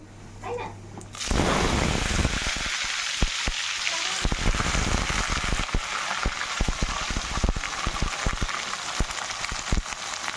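Ridge gourd and potato hit hot oil with a sudden loud sizzle that carries on steadily as a dense crackling hiss, close and continuous, with no voice over it.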